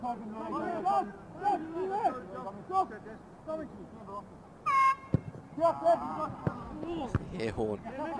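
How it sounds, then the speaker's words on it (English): A single short, bright air horn blast sounds from the crowd midway through an NPL Tasmania football match between Riverside Olympic and Devonport, under steady commentator talk. "Air horn."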